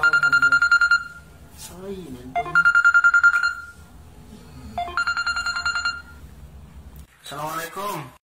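A telephone ringing in three bursts of bright electronic trills about a second long each, with voices sounding in the gaps between rings.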